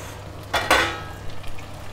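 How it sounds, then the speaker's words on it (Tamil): Chopped tomatoes dropped into a hot pan of oil with curry leaves, a short burst of sizzling frying that fades into a softer crackle, close and alone. "தக்காளியை சட்டியில் இறக்குறோம்"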